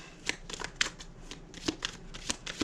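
Tarot cards being shuffled by hand in quick riffling bursts, close and fairly quiet, with no speech over them.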